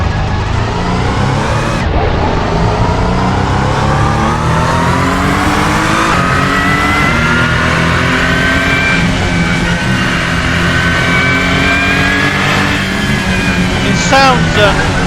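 Ferrari 499P Le Mans hypercar engine in the racing game Assetto Corsa, a loud, continuous high-pitched whine rising and falling through gear changes.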